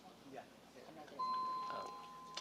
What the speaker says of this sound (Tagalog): parang doorbell, no?